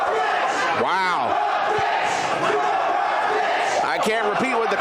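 A wrestling crowd at the Unconquered Cup chants loudly at Brandon Watts, a dense, sustained roar of voices with rising shouts and bursts filling the whole stretch.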